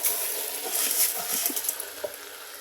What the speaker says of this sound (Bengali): এখন এই পর্যায়ে আমি দিয়ে দেব হচ্ছে পোলাও চালগুলো, দিয়ে ভালো করে মশলাটার সাথে কষিয়ে নেব।